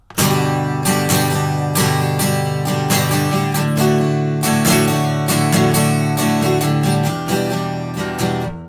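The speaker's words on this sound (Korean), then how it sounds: "힘 피크를 꽉 잡고 있는 힘껏 피크를 꽉 잡고 팔에도 힘을 꽉 주고" Loud, harsh acoustic guitar strumming played with a tightly gripped pick and tensed arm, hard and forceful strokes in a dense, steady rhythm with a bright, clattering edge.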